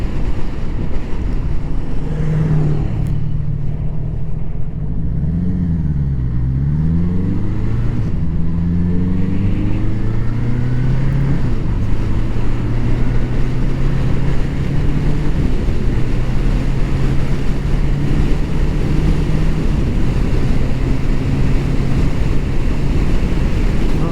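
A 1981 Honda CB750C motorcycle engine runs close by: a brief throttle blip with rising and falling tones, then it settles into a steady idle that drones on alone under heavy wind or background rush.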